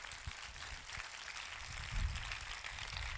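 A church congregation clapping hard during a Pentecostal-style worship service, a steady wash of applause that stays dense and loud throughout, swelling slightly toward the middle.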